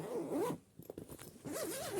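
A school bag's zipper is pulled open in a quick back-and-forth rasping run, pauses amid soft rustling and handling of the bag, then zips again in another brisk run, close up and clear.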